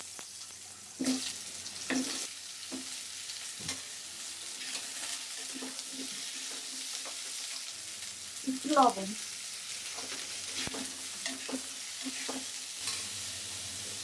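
Pumpkin and potato pieces lightly frying in mustard oil in a pan, a soft continuous sizzle broken by repeated scraping stirs, with a person briefly speaking.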